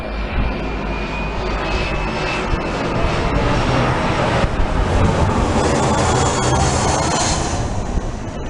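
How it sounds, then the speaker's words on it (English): A large airplane passes overhead in a garden, a steady broad engine roar with a faint high whine that holds loud and even throughout, no voices. "The planes that have been coming through have been larger and larger"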